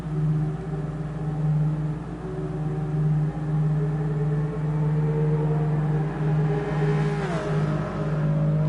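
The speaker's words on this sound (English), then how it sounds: "You can hear a lot of the cars. Just listen." Cars in a racing video game produce a sustained loud engine drone. Other engines rise and fall in the mix, and a brief sweeping pass or rev sounds near the end.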